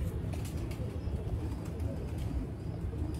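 A pigeon coos in low, soft, repeated throaty notes beneath steady ambient rumble, with faint chirps above it and no talking.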